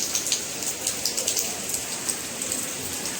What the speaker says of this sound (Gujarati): સવાર સવારમાં રાજકોટમાં વરસાદ ચાલુ થઈ ગયો છે